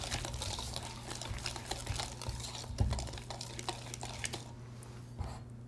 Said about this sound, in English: Mix with a whisk. Until the batter starts to smooth out.